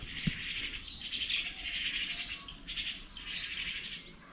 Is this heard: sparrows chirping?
yes